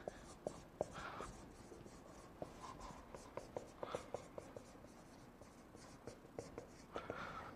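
Pen or marker writing on paper or a board during a quantum computing lesson: soft, close strokes and light taps in an uneven rhythm, quiet and steady, with faint breathy voice sounds in between.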